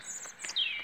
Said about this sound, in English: At least you can hear the birds tweeting.